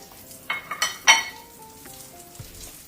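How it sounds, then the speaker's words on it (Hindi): Flaxseeds frying in oil in a pan, with several sharp crackling bursts and clinks of a utensil early on, settling into a softer, lingering sizzle; no talk. "अब हम इसी में यानी अपना ये जो अलसी इसको फ्राई कर लेंगे"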